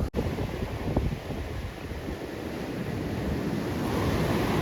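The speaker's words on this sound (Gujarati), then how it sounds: "જો આવ્યો મોજાની રાહ જોતા હોય એ જ મોજો આવ્યો" Sea waves breaking on the shore on a windy coast before a cyclone, a broad continuous wash of surf with wind rumble that slowly builds in loudness, no voices.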